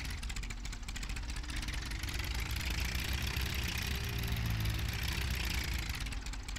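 A small, compact tractor engine from the video game Farming Simulator 17 runs at a steady idle-like drone, continuous and fairly loud throughout with no talk over it.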